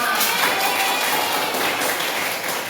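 Classroom applause from a group of students, dense steady clapping that fills the whole stretch at an even level with no talk over it.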